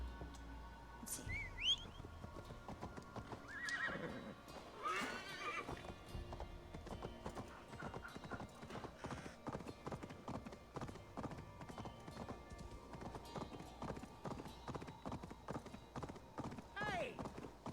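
In Assassin's Creed Valhalla, a horse whinnies a few times near the start, then its hooves clip-clop in a steady rhythm. Whistling and faint bird calls can be heard, all fairly quiet.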